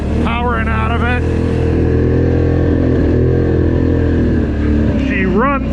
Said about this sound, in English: ATV Premium runs the hill.